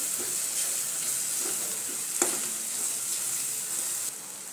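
Onion with turmeric, homemade garam masala and red chilli powder sizzles in hot oil while being stirred for dum aloo, a steady close hiss with a single clink of the spoon midway.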